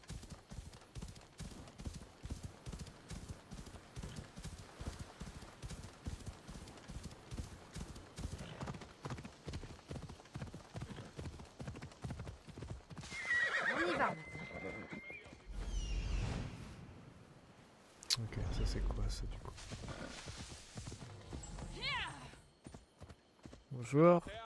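Horse hooves clip-clop steadily at a walk through the first half in Assassin's Creed Odyssey, followed by louder bursts of movement and a brief whinny, with someone talking over parts of it.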